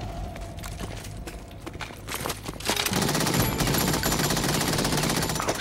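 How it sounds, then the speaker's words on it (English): Soldiers open fire in the video game Metal Gear Solid 2: Sons of Liberty, with scattered shots giving way to loud, sustained rapid automatic gunfire that continues without a break. "Oh shoot, they're still shooting at me."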